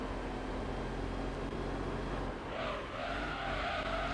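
The LMP Dragon race car in Gran Turismo 3 drones along steadily, then its tires let out a brief rising squeal near the end, moderately loud with no talk.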